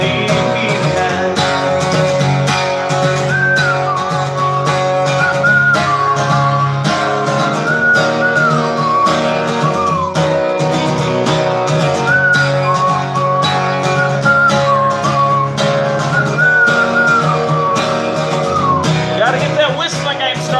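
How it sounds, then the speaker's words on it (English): A melody is whistled in clear, gliding phrases over a steady full-band song with instruments playing throughout, loud and close. "Gotta get that whistling game strong."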